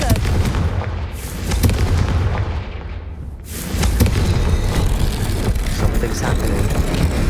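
Confringo fire spell cast in Hogwarts Legacy, a loud booming explosion with a rumbling burst that dies away, then a second heavy blast around the midpoint that rolls on under sustained in-game noise.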